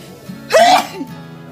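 A single loud sneeze bursts out mid-clip during a bout of sneezing blamed on sinus trouble, with faint murmuring and a softer follow-up sound after it.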